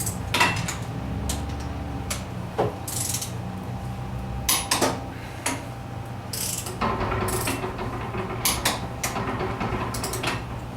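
A torque wrench ratchets repeatedly while bolts are tightened in a crisscross pattern during end play adjustment on a Type 4 engine, giving sharp metallic clicks and clanks in irregular bursts over a steady background hum, close by.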